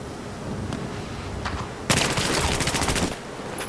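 Rapid bursts of automatic gunfire in a combat video game scrim, a faint shot or two first, then a loud sustained volley lasting over a second before cutting off, with no voices.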